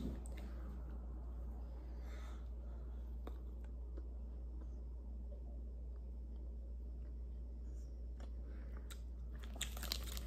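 A Milky Way chocolate bar being bitten and chewed up close, with soft crunching and mouth sounds running steadily over a low constant rumble of room noise, with no talking.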